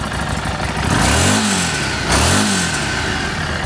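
A 2018 Harley-Davidson Street 500 XG500 commuter motorcycle idles loudly up close, then its engine is blipped twice, the pitch rising and falling with each rev before settling back to a rough idle.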